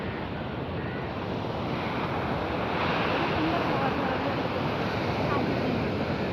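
Big monsoon waves at Kapu beach roar in a steady, dense wash of surf close by, heavy wind buffeting the microphone throughout.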